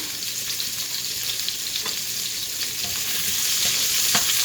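Chopped onions sizzle steadily in a couple tablespoons of hot oil in a pan, a close, continuous crackle with a few sharp pops and light stirring clicks, growing slightly louder toward the end.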